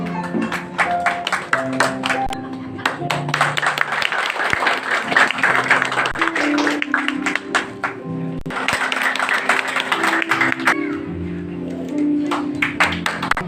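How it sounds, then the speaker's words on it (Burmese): An audience at a religious teaching gathering claps in sustained waves of applause. Short pauses break the clapping, and a voice calling out over it at times. "အလုံးလက်ကိုတီးအောင်နော်"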